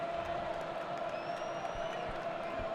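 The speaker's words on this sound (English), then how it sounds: "Crowd pretty loud here at Ohio State." A large stadium crowd at an Ohio State college football game makes a broad, loud, continuous roar with faint cheering, heard from a distance.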